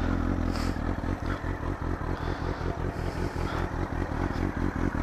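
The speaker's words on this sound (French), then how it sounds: "je vais peut-être vous faire quand même écouter le son du Léo Vince ou Léo Vinch" A motorcycle with a Leo Vince exhaust with no baffle, idling on a cold engine, giving a steady, loud, close-up lumpy exhaust pulse that repeats evenly for five seconds.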